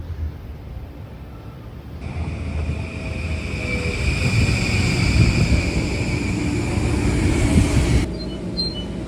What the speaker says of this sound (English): I love how the tracks make this sort of sound when the train is approaching.